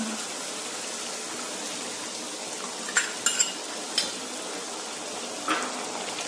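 Onions hit a pan of ginger-garlic paste for mutton korma and set off a steady, close sizzle, broken by a few sharp clinks and scrapes of a spoon against the pan.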